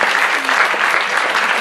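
Audience applause at a children's book award celebration, a dense continuous patter of many hands clapping, steady and loud throughout.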